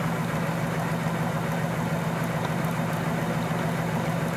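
A homemade free energy generator turns at low speed, just over 400 RPM, giving a steady, close, even hum with a low mechanical drone that runs unchanged and alone throughout.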